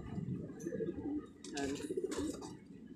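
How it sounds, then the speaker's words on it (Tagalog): Racing pigeons in a loft, a low soft cooing murmur filling the clip with brief flutters and shuffles, close and steady, no talk. "papakita ko sa inyo mga kalipad"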